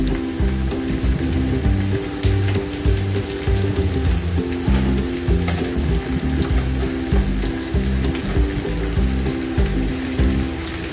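Chicken frying in a pan for a butter chicken dish made with Costco butter chicken sauce: a steady, close, loud sizzle and crackle that runs throughout with no talking.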